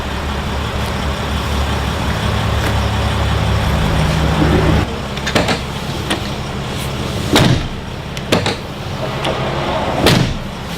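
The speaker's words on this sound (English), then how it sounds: "They're two 50-50 doors. And they both come to a lock. They will stop and they will lock in place." Rear 50-50 doors of a Mercedes Sprinter ambulance are pushed shut and latch into place, giving several distinct thuds and clicks over a steady idling engine rumble.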